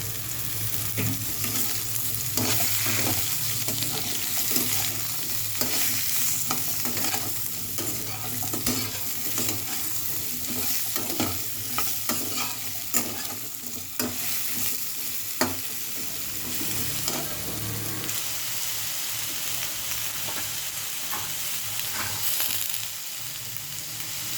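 Red-fried potato and snake gourd pieces are stirred and tossed in a hot pan, a continuous close sizzle broken by repeated spatula scrapes and clatter throughout.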